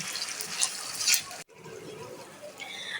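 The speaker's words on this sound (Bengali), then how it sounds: "আমি এখন দিয়ে দিচ্ছি পানি।" Water poured into a frying pan over fried ginger-garlic paste for egg and prawn biryani: a loud, bright hissing sizzle that cuts off abruptly, then a quieter bubbling simmer.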